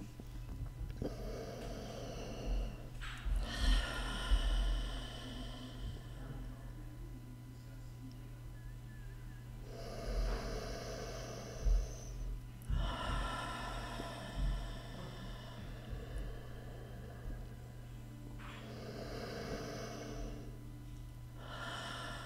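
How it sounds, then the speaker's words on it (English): Three long, slow breaths, each a drawn-out inhale and exhale of soft airy rushing separated by quiet pauses, close to the microphone over a steady low hum. "So let's start with 3 long breaths."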